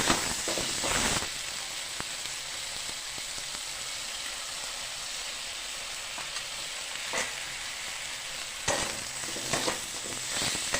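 Ginger paste, coriander, cumin, salt, turmeric and sugar fry in a pan for a milk cauliflower dish, making a loud, steady sizzle broken by bursts of scraping as they are stirred.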